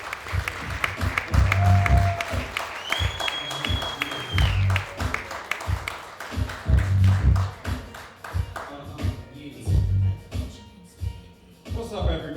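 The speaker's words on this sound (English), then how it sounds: "Let's give it a round of applause to Soweto Bosia." Audience applause fills a comedy show at Gamers Hall in Chicago, steady clapping from a room crowd with whoops and a few voices calling out over it throughout.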